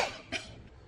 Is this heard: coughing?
yes